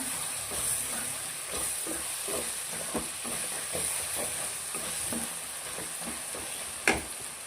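Coriander and chilli powder are stirred into a sizzling bitter gourd masala, giving a continuous frying hiss with a rhythmic series of soft spatula scrapes and one sharper knock near the end.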